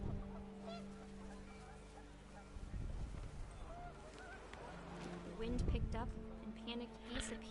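Geese honk in the video game What Remains of Edith Finch, a few loud, nasal calls in short clusters standing out near the start and again toward the end over a low hum, while a person talks.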